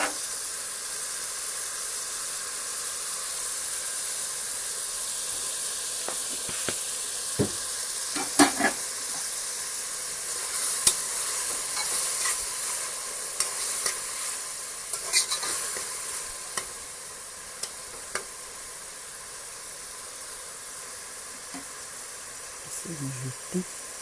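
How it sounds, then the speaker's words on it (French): Potatoes and meat cook together in a pot, giving a constant close hiss and sizzle with occasional stirring clicks and scrapes, steady throughout. "Laissez mijoter, continuez à laisser mijoter quelques minutes."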